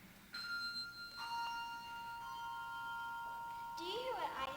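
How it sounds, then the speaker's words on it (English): Bells toll through a chill night in a telling of an ancient legend, three clear ringing strikes with long sustained tones, faint and somewhat distant, followed by a brighter jangle at the end. "Suddenly, 3 bells tolled through the chill of the night air."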